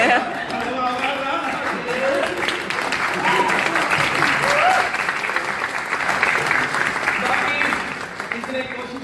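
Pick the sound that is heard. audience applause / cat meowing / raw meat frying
audience applause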